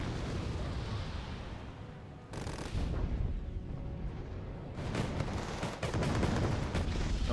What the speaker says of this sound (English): He's getting some nice shots off on the side.